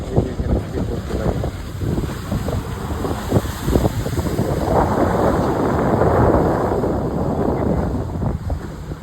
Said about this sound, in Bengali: এই যে এখানে স্পিডবোট চলে।